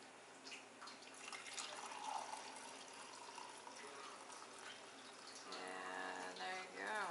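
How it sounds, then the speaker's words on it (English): Turmeric tea is poured from a pot into a cup, a steady liquid trickle that runs and settles into a gurgling fill near the end. "So I'm going to just pour it in my cup here."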